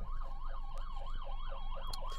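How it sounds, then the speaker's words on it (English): A distant ambulance siren wails in a quick, regular up-and-down pattern, faint and steady against low background noise. "There's an ambulance going there."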